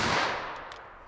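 .22 LR pistol fired during a ballistic test, a single sharp shot with a quick decaying tail, close and fairly loud, alone without talk.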